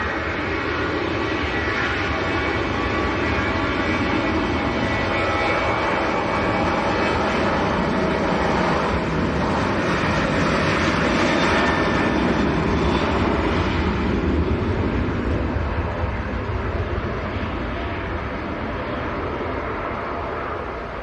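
A Ryanair ATR 72 turboprop at Manchester Airport gives a steady, broad engine roar that swells slightly toward the middle and then eases, heard alone without voices.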